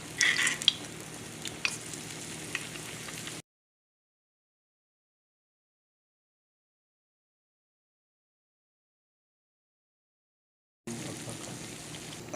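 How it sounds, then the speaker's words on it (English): Plantain fritters fry in a cast iron skillet with a faint, steady sizzle and occasional soft spatters, broken by a long silent gap before the sizzling resumes. "we fry them in a skillet, cast iron skillet"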